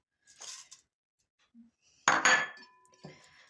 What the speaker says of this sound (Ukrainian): Розмішую його щоб рівномірно м'ясо розподілити між гречкою.